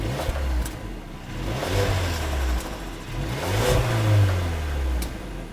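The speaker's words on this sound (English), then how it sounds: "a turbocharged 2-liter inline 4-cylinder, offering up 221 horsepower, 258 pound-feet of torque, and a distinct coarse sound outside the car." A Mercedes-Benz GLA 250 with a turbocharged 2-liter inline-four revs in two rising, coarse surges, heard from fairly close with no talking over it.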